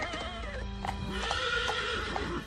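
A horse neighs with a long, loud, wavering whinny close by, with faint hoof clip-clop beneath, as a black rider arrives on horseback.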